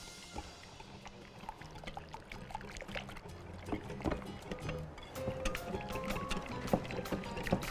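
Tahini is stirred with warm water in a bowl, giving close, soft wet sloshing with a steady run of light spoon clicks and scrapes that grow busier toward the end.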